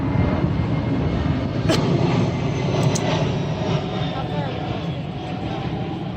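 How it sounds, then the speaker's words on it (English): A jet airplane passes overhead near an international airport, a loud, broad continuous roar that swells and slowly eases away. "Gotta love the airplanes. Right over International Airport."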